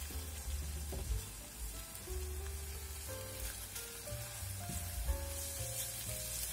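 Onions and eggs sizzle steadily in a frying pan, a continuous close crackle broken by scraping knocks and soft clunks as the mixture is turned.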